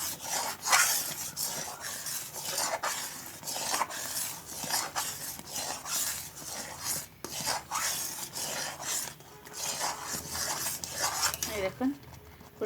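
Spoon scraping and stirring egg and carrot halwa in a metal pan, a continuous rhythmic rasping with repeated clinks against the pan, moderately close, with a brief louder scrape near the end.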